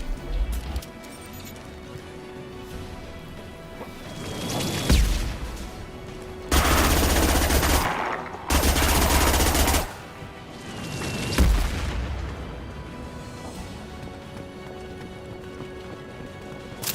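Machine pistol gunfire in the Mass Effect video game, with loud bursts of automatic fire: two long sustained volleys in the middle and shorter bursts around them, over a steady game background.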